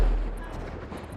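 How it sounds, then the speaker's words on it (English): In the GTA 5 video game, a distant explosion booms from inside a building as a single deep, muffled rumble that fades over about a second. "the mysterious occasional distant explosions that you hear"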